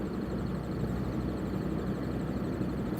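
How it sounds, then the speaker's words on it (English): Car engine idling while warming up in extreme cold, around minus 50, a steady low rumbling drone heard close, alongside a blower fan running in the cabin, with no change in pace. "And my engine is still not at half temperature yet."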